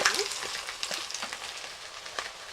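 Steady close sizzling and crackling of ivy gourd chutney frying in a pan, with faint scraping from stirring, continuous throughout.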